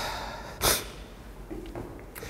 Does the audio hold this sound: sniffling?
yes